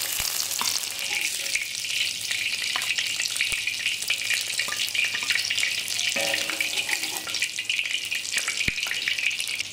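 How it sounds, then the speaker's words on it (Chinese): Bitter melon pieces sizzle in a pan of oil in a rural kitchen, a loud continuous hiss and crackle with scattered sharp pops and faint scraping of a spatula, close and steady throughout. "现在煎的差不多了"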